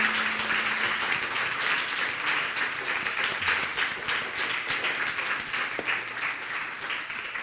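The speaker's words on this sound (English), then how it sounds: "So it's like so warm applause for Chami." A warm round of audience applause after a talk, with dense, steady clapping from a room full of people that holds for several seconds at an even level.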